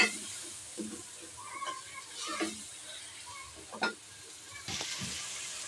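Turmeric and spices fry in a pan for khichuri, giving a faint, intermittent sizzle with soft stirring scrapes nearby.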